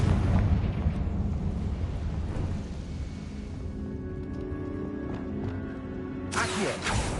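A rumbling fiery explosion from the Confringo spell in the video game Hogwarts Legacy, a heavy sustained low blast that slowly fades, followed by a sharp burst near the end.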